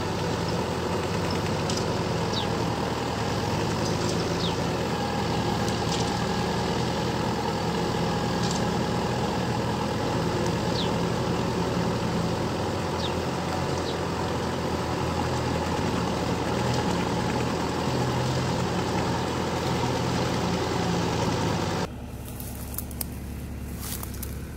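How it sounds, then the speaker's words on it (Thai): Two tractors work to pull a stuck Kubota M6040 tractor out of mud, engines running as a steady heavy rumble with a loud, close idle that cuts off abruptly near the end. "ไถ2คันครับดึงรถไถที่ติดอยู่คันเดียว"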